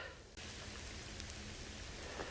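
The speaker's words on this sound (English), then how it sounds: "Kind of a freezing rain / hail." Freezing rain and hail patter steadily and densely onto outdoor surfaces during a hunt, a loud, continuous hiss broken only by a brief dropout near the start.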